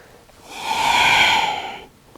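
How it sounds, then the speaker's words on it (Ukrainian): A single long, breathy exhale during a morning exercise routine swells up and fades over about a second and a half, close and alone with no talk. "І видих вниз. І ще раз вдих. І видих вниз."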